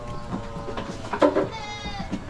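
Goats on a Filipino farm bleat in short wavering calls, several overlapping bleats rising close by over a low steady background.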